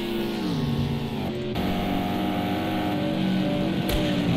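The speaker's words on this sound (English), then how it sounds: "That's the roar of the Aston and the M6." Aston and M6 race car engines roar in Project CARS 2 at the Indianapolis Road Course, layered tonal engine notes shifting in pitch as the cars work through gears, steady and moderately loud with no voices.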